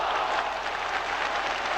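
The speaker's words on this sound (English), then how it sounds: "No wonder the crowd applauded." A stadium crowd claps steadily and loudly throughout at a 1970s-era football match, a dense wash of applause with no break.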